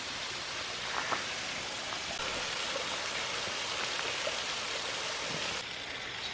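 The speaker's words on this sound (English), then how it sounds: "This is the bottom of the waterfalls we were just looking at." A waterfall on an Arkansas hiking trail pours down at its base, heard as a steady, dense rushing hiss with no breaks, moderately loud and close.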